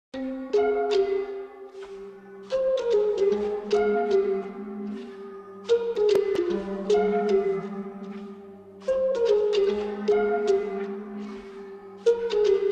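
A slow, melancholy bell-like synth melody made in FL Studio with effects and reverb, notes ringing out over a low sustained bass in repeating phrases.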